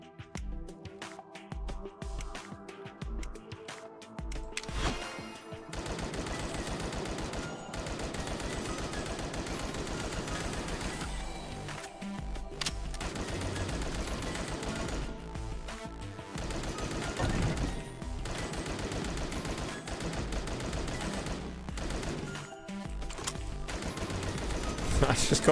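Relentless rapid gunfire from a firearm in the game Apocalypse Party, a continuous fast stream of shots layered over loud game music and effects, with brief pauses before the barrage resumes.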